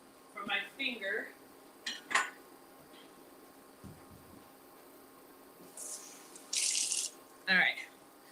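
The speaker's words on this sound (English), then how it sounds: "I'm just going to get a little cup of water for my finger." A cup is filled at a kitchen tap while breakfast pizza is being made, with a short burst of running water after scattered clinks of dishes and cutlery, close and moderately loud in a quiet room.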